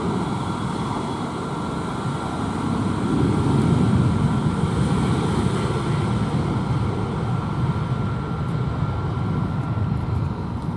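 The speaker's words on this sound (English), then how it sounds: "Oh, got a plane taking off." A plane taking off nearby, heard as a loud, steady broadband roar with a low rumble that swells slightly midway and holds for about ten seconds, with no talking.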